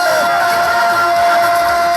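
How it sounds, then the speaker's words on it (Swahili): Guests at a wedding celebration cheering loudly as a dense crowd, with a sustained high trilling cry running through the noise. "Makofi na vigelegele."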